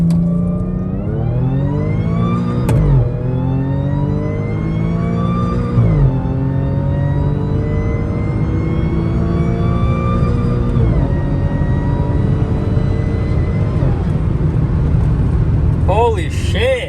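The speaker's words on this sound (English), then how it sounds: "first test is going to be launching the car. So I've put it in sport mode." An Audi S4 with a Jackal Motorsports tune launches hard in sport mode, its engine revving up through several gear changes with rising, falling pitch sweeps, loud and close throughout.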